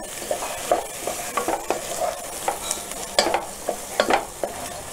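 Kashmiri chili and coriander powder fry in a pan with a soft sizzle, punctuated by repeated scraping stirs of a utensil against the metal at an irregular, close rhythm.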